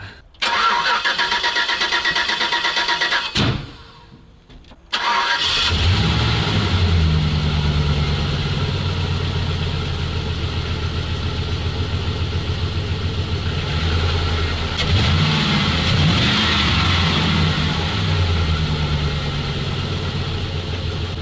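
A truck engine cranks and catches, briefly cuts out, then restarts and settles into a loud, steady idle close by.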